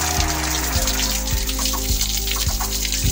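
Hot water runs from a shower in a camp shower room, a steady hiss of spray with the water falling and splashing throughout, up close and without talk.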